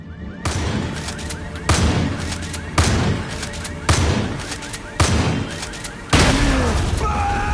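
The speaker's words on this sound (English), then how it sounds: "The explosion will make people shit themselves!" A flipped gas tanker blows up in the zombie DLC of Far Cry 5, a run of six loud booming blasts about a second apart, each with a rumbling tail, the last one heaviest.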